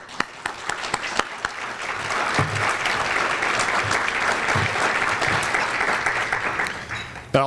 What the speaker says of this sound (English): let's give them a warm thank you with a round of applause